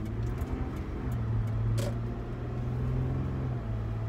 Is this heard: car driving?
yes